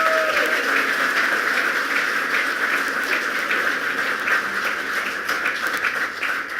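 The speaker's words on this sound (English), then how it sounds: "let's give a big round of applause to our great Lieutenant Governor Kathy Hochul" An audience gives a sustained round of applause at a Western New York Smart Growth awards event, dense steady clapping that fills the room throughout.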